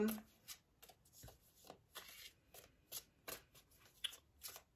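Oracle cards being shuffled by hand, a run of soft, papery riffles and slaps in quick uneven bursts, close and fairly quiet, with no talking over them.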